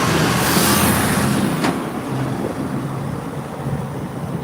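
A heavy truck's engine drones loudly at close range and shifts up into sixth gear; the low rumble dips and settles partway through as road and wind noise continue throughout.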